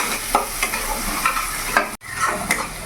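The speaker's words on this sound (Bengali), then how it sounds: "এবার ভালো করে নাড়াচাড়া করে একটু ভেজে নেব।" Turmeric and chili powder fry in hot oil while being stirred, for a Bengali bata fish curry. A utensil scrapes the pan in repeated strokes over a soft, continuous sizzle.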